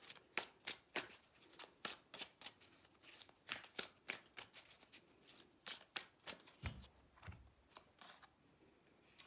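Tarot cards are shuffled by hand in a steady series of crisp riffling snaps, about two or three per second, close but soft, with no talking.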